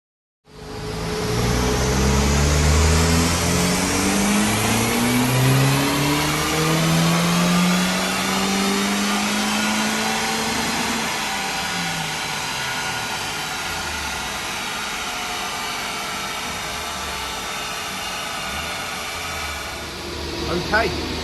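Mitsubishi Colt CZT with a 4G15T turbo engine, custom tuned with Ecutek, on a dyno power run: a loud, steady rising rev sweep that peaks midway, then drops to a lower sustained drone.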